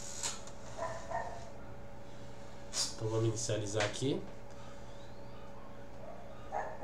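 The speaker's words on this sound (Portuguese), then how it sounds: "não reparem o cachorro do vizinho que não para de latir" A neighbor's dog barks several times in the background, mid-distance and fairly loud in short bursts, while someone talks over it, with a steady electrical hum underneath.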